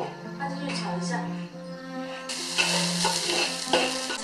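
Minced meat stir-frying in oil in a wok, a crackling sizzle that swells louder partway through, heard under a person talking with pauses.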